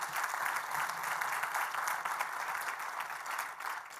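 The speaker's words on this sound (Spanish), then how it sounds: "Démosle un aplauso a nuestro Dios por ser tan fiel." A church congregation applauds in a dense, steady wash of many hands clapping together, moderately distant and with no voices heard.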